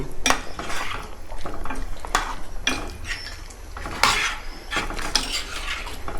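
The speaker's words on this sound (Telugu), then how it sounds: "ఈ 2 కర్రీస్ కలుపుకోవాలన్నమాట మనం" Two curries, including a Telangana-style goat head curry, are stirred together in a pot: a spoon scrapes and clanks against the metal in irregular strokes, close and clear, with a faint sizzle beneath.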